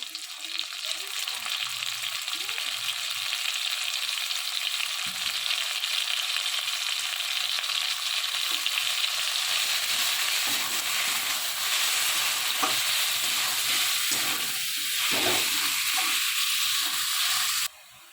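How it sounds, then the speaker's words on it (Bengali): Minced meat keema frying in hot oil, a loud, steady, hissing sizzle close up with faint scrapes of stirring, running unbroken until it cuts off abruptly near the end. "তেলেই মাংসের কিমাটা রেডি করে নেব দিয়ে দেবো কিমা"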